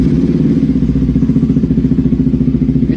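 Yamaha RXZ motorcycle engine running steadily nearby, a low, throbbing two-stroke pulse with a rapid, even rhythm and some mechanical clatter, with no voices.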